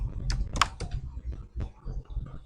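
Computer keyboard typing on a website dashboard, a quick cluster of close, fairly loud key clicks in an uneven rhythm.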